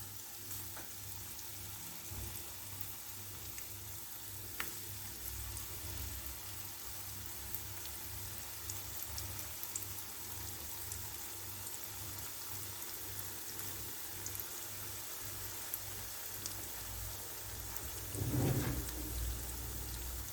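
Pieces of dough frying in hot oil in a pan, a steady crackling sizzle like light rain that continues throughout, close and even, with a brief louder bubbling burst near the end.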